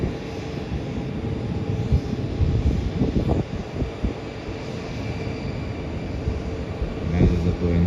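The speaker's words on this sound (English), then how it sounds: "That is a Boeing 737." Virgin Australia Boeing 737 at Melbourne airport, a steady broadband jet engine roar holding at moderate loudness throughout with wind buffeting the microphone and no talk.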